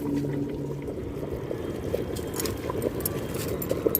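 Water is poured into a clay pot of mutton curry while cooking, giving a continuous, fairly loud splashing pour that runs steadily throughout.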